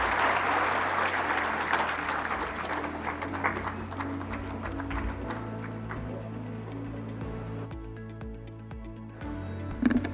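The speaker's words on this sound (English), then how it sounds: "and a round of applause" Audience applause at an ocean conference closing ceremony rolls on steadily under a layer of sustained music, with no voices heard.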